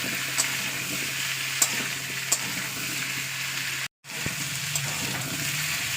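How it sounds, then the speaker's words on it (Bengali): Taro and potato chunks frying in oil, a dense even sizzle close by with occasional utensil taps, a momentary dropout partway through before the frying noise resumes. "এর উপরে এবার আমি আলুটাকে দিয়ে দেবো। এটাকে 2-3 মিনিট তেলে ভাজতে হবে।"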